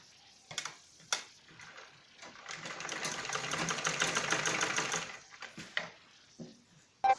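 A sewing machine stitches fabric for a balloon salwar, a steady rapid mechanical whirr lasting a couple of seconds, framed by sharp clicks and handling knocks before and after.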